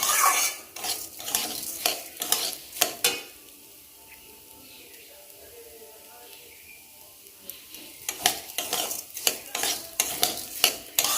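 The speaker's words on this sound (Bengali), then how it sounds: "হালকা করেই সব কিছু ভেজে দিচ্ছি" Vegetables lightly fried in a pan for dalia khichuri, with bursts of spoon scraping and clatter against the pan around a quieter stretch of soft sizzling in the middle.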